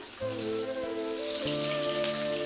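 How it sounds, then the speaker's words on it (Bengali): Chopped onion and slit green chillies fry in hot oil, giving a continuous rain-like crackling sizzle, close and even throughout, beneath sustained musical tones. "পেঁয়াজ কাঁচা লঙ্কাটাকে এবারে ভালো করে ভেজে নিব"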